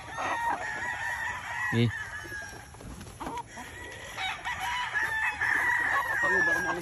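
Battle stag roosters crow repeatedly in a farmyard, several long, bright calls close by, with brief clucks and a short human utterance between them.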